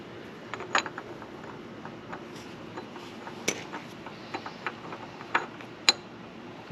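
A new front sprocket being fitted on a Kawasaki ZX6R motorcycle: sparse, quiet metallic clicks and light ratcheting taps scattered over faint background hiss.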